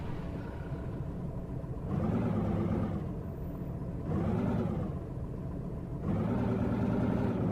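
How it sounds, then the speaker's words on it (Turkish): A truck engine idles in Truck Simulator Ultimate, a steady low rumble that rises three times into a louder, throatier surge and then falls back, heard alone without talk. "Motorumuzu çalıştıralım."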